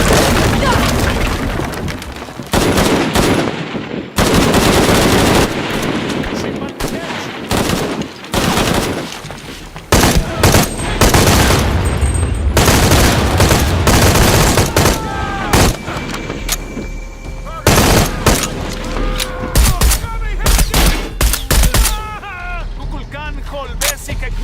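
Gunfire and explosions from the video game Shadow of the Tomb Raider: loud close bursts of automatic fire and heavy booms hammer away for over twenty seconds, with occasional short gaps and game voices shouting at times.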